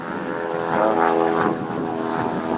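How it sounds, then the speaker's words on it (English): Propeller airplane passing overhead in a residential area, a steady droning engine that swells in the middle and then eases, loud and continuous with no talking. "Plane overhead."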